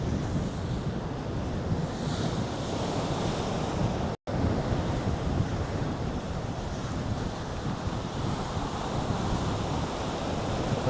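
Strong wind roars continuously across the microphone while riding a bicycle on a road in South Korea, a steady broadband rush with one brief dropout midway.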